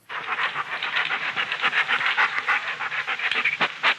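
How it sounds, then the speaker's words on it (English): Puppy panting in a radio drama, quick close breathy huffs in an uneven rhythm over about four seconds, alone with no talk. "So, Tony carried a trembling puppy 2 miles through crowded streets to his apartment."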